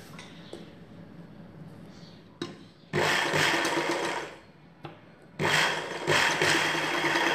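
A sewing machine stitching a ghagra choli sounds in two loud, steady runs of close mechanical whirring. A quieter stretch and a short start-up burst come before each run.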